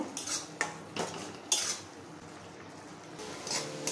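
Papaya chutney with lemon juice being stirred in a pan, several scraping strokes of a spoon against metal in an uneven rhythm, close and moderately loud, with no speech.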